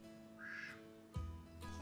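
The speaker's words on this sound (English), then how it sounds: "And outside we have 2 ducks, Slim and Beaker," Two ducks outside a colorful desert home in Inyokern, California give a faint, short quack, then a second brief call, over a quiet steady background hum.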